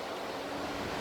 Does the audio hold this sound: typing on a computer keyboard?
no